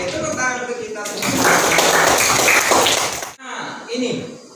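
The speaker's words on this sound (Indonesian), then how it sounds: "Oke, tepuk tangan untuk kita semua." A small group claps hands together in a brief, loud burst after a leader's call, the clapping rising between stretches of spoken voice and cutting off abruptly before talk resumes.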